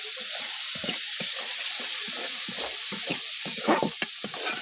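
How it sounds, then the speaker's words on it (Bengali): Pumpkin slices and hilsa fish frying in a pan, with a steady close sizzle and repeated soft scraping of stirring throughout, no talk. "মিষ্টি কুমড়া ভাজা, ইলিশ মাছ ভাজা মানে ভুনা"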